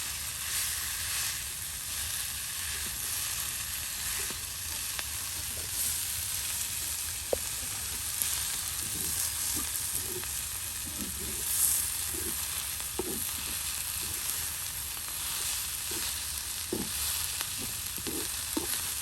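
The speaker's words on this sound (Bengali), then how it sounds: "এই যে এভাবে আপনারা শাক ভাজি করে খেতে পারেন" Bottle gourd leaves frying in a pan with beans and garlic leaves, giving a steady soft sizzle throughout with occasional stirring scrapes, at low to moderate level.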